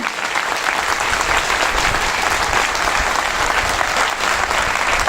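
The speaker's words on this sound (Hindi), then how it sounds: "ये तालियां कम है।" A large audience claps continuously at a Brar Group gathering, a thick, even wash of applause that stays loud from start to finish with little talk.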